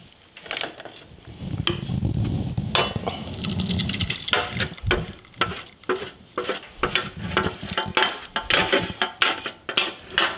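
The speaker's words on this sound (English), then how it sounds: "I think that I really clean up my pan properly here." A metal utensil scraping and stirring around a roast turkey pan to loosen crystallized juices, a gentle sizzle underneath, then a busy run of close scrapes and clinks against the pan.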